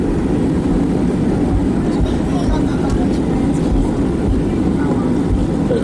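An airliner cabin hums with a loud, steady engine drone and low rumble as the plane taxis toward the runway at rainy Newcastle airport, the noise even and unbroken throughout.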